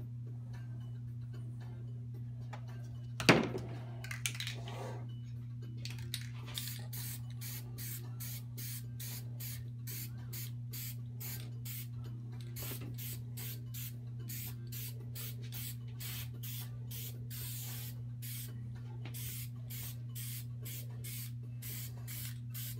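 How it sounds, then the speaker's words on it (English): A spray paint can hisses in rapid, rhythmic bursts onto an abstract acrylic painting, the short sprays repeating steadily over a constant low electrical hum, with a sharp knock near the start. "I was looking for my other can of spray."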